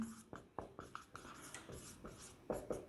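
Chalk or marker scratching on a board while maths is being solved, a quick run of short, close strokes and taps in an irregular rhythm, quiet and alone with no talking.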